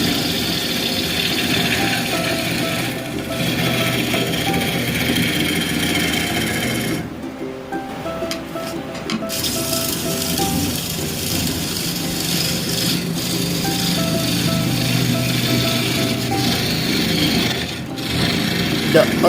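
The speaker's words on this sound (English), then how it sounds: "Hollowing is the process in which we hollow out the wood from inside to give a proper shape" A tool scrapes and rubs as wood is hollowed out from inside a red vase spinning on a lathe, making a steady, close grinding and rasping sound that carries on throughout with brief changes in texture.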